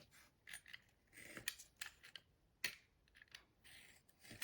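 Scissors snip through paper from an Action paper block while an Advent calendar is being made, giving a quiet, close series of crisp irregular cuts with no talking.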